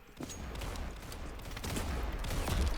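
Rapid gunfire from the Roblox Counter Blox shooter game, a dense burst of repeated shots building in loudness over a few seconds, close and continuous.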